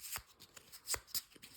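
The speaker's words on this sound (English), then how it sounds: "you shuffle these up" A deck of game cards is shuffled in a few quick, crisp riffling bursts, close and fairly quiet, with short pauses between them.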